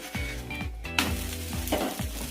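Eggless Kerala porotta sizzling on a hot pan right after being flipped, a steady close crackle of oil under a tonal background melody.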